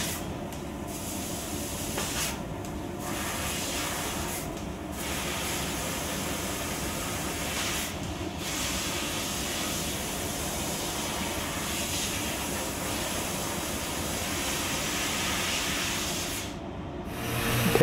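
A fiber laser cuts 11 gauge mild steel with nitrogen assist gas through a 2.0 mm nozzle, a steady loud hiss that runs almost unbroken, with brief dips in the upper hiss.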